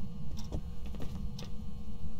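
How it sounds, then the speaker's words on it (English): Ghost writing in the Phasmophobia video game, heard as a few faint scratchy strokes over a low steady hum, with short gaps between them. "I thought I heard writing"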